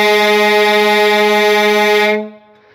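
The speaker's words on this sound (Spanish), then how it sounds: "Algo que me encanta y que me encanta son las tres cornetas de tren." Three-chime train horn fitted to a semi truck trailer, one loud sustained rich chord blaring for about two seconds before cutting off with a brief echo tail.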